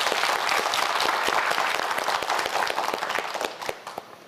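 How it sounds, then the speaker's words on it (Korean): Studio audience applauding on a televised student quiz show, a full burst of clapping that gradually thins into a few scattered claps as it dies down. "큰 박수 부탁드립니다."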